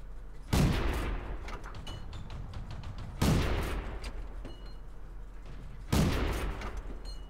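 Tank cannon fire in the World of Tanks video game: three heavy booming shots spaced a few seconds apart, each with a sharp onset and long rumbling decay over a low engine drone, no voices.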